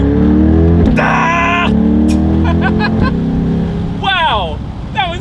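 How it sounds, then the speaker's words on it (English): A 2022 Chevrolet C8 Corvette Convertible launches hard, its engine revving up through rising pitch with a gear change midway, loud and close, followed by excited shouting voices over the engine. "let's see how quickly we can get our new 2022 Chevy Corvette C8 here up to speed"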